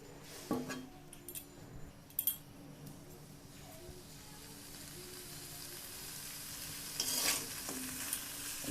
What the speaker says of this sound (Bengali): পরিমাণ মতো লবণ দিয়ে আমি এখন ভেজে নেব ভেজে নিয়ে কষিয়ে নেব